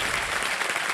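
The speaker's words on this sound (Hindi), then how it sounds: "ताली बजाते हैं आपके लिए।" Sustained clapping from the studio audience of the Kaun Banega Crorepati game show, a full, continuous burst of applause with no speech over it.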